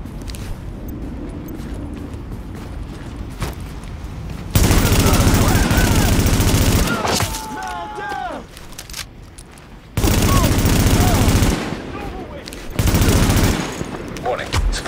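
Gunfire in the video game Tom Clancy's The Division: loud sustained bursts of automatic fire in several long stretches, with scattered shots and whizzing, falling tones between them.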